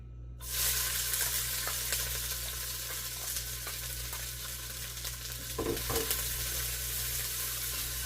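Sliced shallot and half a pepper sauté in a hot pan, a dense, even sizzle that starts abruptly and holds steady at close range, with a few soft stirring knocks near the end and no voices.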